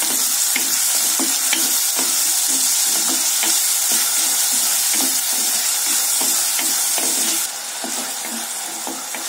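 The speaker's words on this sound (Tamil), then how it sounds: "இப்போ இந்த தக்காளி நல்லா வதங்குற வரைக்கும் வதக்கிக்கோங்க." Chopped tomatoes sautéing in a pan for bottle gourd sambar, a loud continuous sizzle with steady rhythmic scrapes of a spoon stirring through it, close and unbroken, easing slightly toward the end.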